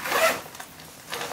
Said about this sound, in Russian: такой язычок на молнии с таким шариком